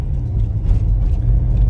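A barn-find Citroen XM's engine runs under light throttle, a steady low, dense rumble that stays close and even throughout, with no voices over it.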